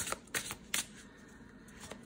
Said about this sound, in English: And here's how it overhand shuffles.